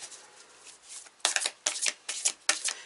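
Large oversized oracle cards being shuffled by hand, starting as a soft continuous riffle, then breaking into five or six louder, crisp bursts of card slapping, close up with no talk.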